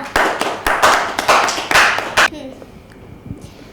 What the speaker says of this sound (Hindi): किरत ने बिल्कुल सही जवाब दिया, तो उसके लिए तालियां